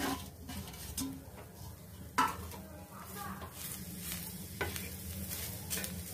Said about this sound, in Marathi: हे खोबरं पण भाजून घ्यायचंय